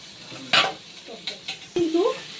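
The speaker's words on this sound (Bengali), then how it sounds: "কিন্তু খুব ভালো করে কষিয়ে নেব মশলার সাথে চাল ডালটাকে খুব ভালোভাবে।" Sama rice and mung dal being stir-fried with spices in a pot, a soft sizzle punctuated by a few sharp scrapes and clinks of a spoon against metal, with a brief voice near the end.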